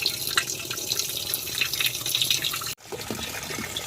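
Water runs steadily into the drum of a home washing machine after a repair, a continuous close splashing and trickling fill with a short break partway through.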